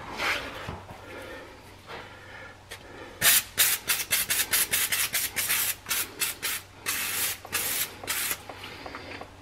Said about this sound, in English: A little brake clean to clean up the mess.